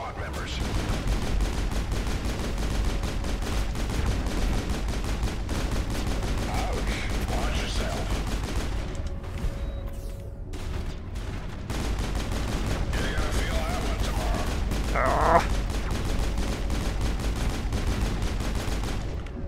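Bursts of rapid gunfire fill a firefight in the Mass Effect video game, dense sustained shooting over a busy game soundscape, dropping briefly to a quieter stretch midway before resuming.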